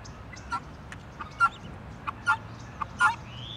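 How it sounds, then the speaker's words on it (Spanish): Sharp, scratchy guinea fowl calls ring out in short bursts every half second or so, repeated cackling cries over a quiet outdoor background. "Gallina de Guinea."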